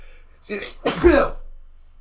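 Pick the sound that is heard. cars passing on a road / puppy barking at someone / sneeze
sneeze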